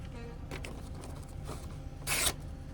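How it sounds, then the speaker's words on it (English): A Chris Reeve Sebenza 31 knife with a Magnacut steel blade slices through paper in a few quiet strokes, ending in a short, crisp, louder rasping cut, close and isolated. "it's easily cutting paper"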